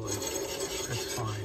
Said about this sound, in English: You hear the rolling of the bearing and the scraping of the brakes.